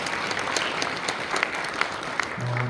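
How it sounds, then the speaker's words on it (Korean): Steady applause from an audience at a March 1st Independence Movement Day ceremony, a dense wash of clapping that holds even throughout with a few sharper claps standing out near the end. "큰 박수 부탁드리겠습니다"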